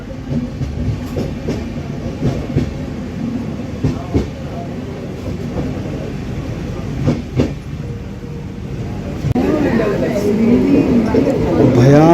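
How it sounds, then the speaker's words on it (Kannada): A train with its wagons rolls through a 69-metre railway tunnel built in 1979, a steady rumble with rhythmic clickety-clack on the rails, rising toward the end with a faint wheel squeal as it slows. "ಯಾಕೋ ಗೊತ್ತಿಲ್ಲ, ಟ್ರೈನ್ ನಿಂತ್ಕೊತಾ ಇದೆ."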